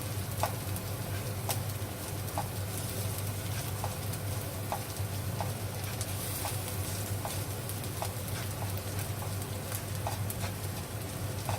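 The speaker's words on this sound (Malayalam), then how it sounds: "മല്ലിപ്പൊടി ഇട്ടിട്ടുണ്ട്. ഒന്ന് ചൂടാക്കി എടുത്തിട്ട്" Coriander powder heats in a pan with a steady low sizzle and faint scattered ticks and pops, close but quiet, continuous with no voices.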